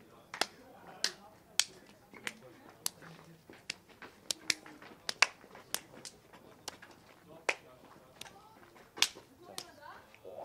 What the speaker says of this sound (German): Alle abklatschen, ja? Wir klatschen ab.